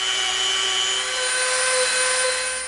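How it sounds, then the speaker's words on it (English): A handheld Dremel rotary tool rounds off the cut edges of EVA foam pieces for a gladiator helmet, giving a steady, close, high-pitched whine that runs unbroken through the whole stretch. "we're going to come in with our Dremel and we're going to round off all of our edges"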